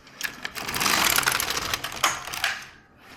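Carriage of an LK150 knitting machine drawn across a single row, a continuous clattering mechanical rasp that swells and eases over a few seconds, close and alone.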